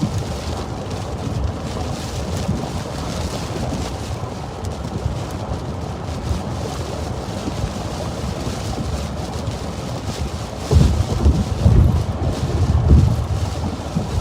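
A big thunderstorm roars on steadily with wind and rain, and a heavier low rumble of thunder swells near the end; no one speaks.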